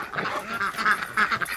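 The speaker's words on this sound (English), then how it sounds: "We got some ducks over here." Ducks quack in a short burst of overlapping, nasal calls close by at the edge of a lake.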